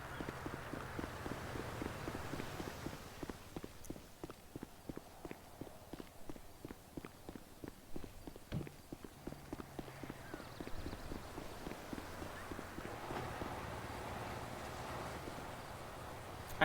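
Horse hooves clip-clop steadily in a video game roleplay as someone rides around, a continuous rhythmic walking gait at moderate distance with a faint background hum and no talk over it.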